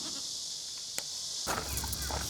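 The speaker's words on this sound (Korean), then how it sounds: "같은 초식 동물인 염소를 유인해봤습니다." A goat gives a short, faint bleat over steady background hiss, in an animal enclosure.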